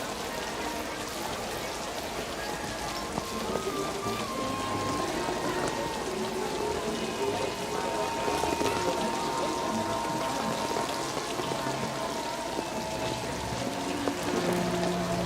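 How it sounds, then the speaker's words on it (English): Heavy rain pours down steadily through a neon-lit city scene, a dense, continuous hiss of falling water with faint music or voices layered underneath. "heavy rain pouring down"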